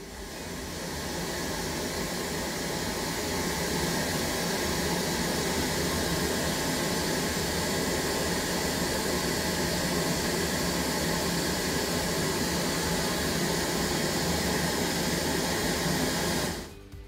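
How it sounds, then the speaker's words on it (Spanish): Pink noise plays through a loudspeaker during setup of an Allen & Heath ZED mixing console, a loud, steady broadband hiss that fades in over the first seconds, holds evenly and cuts off abruptly at the end, with no voices. "voy a empezar a subir el ruido rosa para que suene en el parlante"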